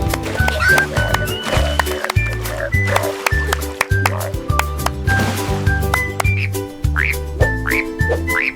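Frog-like croaks come in a rhythmic children's song, with quick bouncy tones over a steady beat and a voice singing along, loud and up front.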